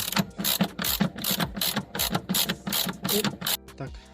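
A ratchet wrench unscrewing rear suspension bolts on a Volkswagen Passat B6 clicks in quick bursts close by, a rapid rhythmic ratcheting that repeats about a dozen times, with metallic clunks between strokes.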